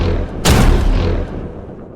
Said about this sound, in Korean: 이어진 두 발의 총성.